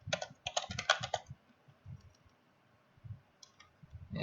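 A computer keyboard is typed on close up in a quick flurry of clicks, then a few scattered keystrokes follow after a pause. Everything is quiet, with faint low thumps between the keys.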